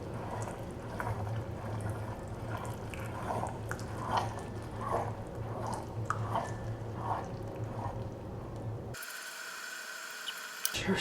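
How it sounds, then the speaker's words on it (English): Heavy cream is poured slowly into a butterscotch pie mixture. It makes soft, faint dribbling and squishy liquid sounds with small drips, then the sound cuts off abruptly near the end. "I'm pouring in, so 1/4 cup of heavy cream."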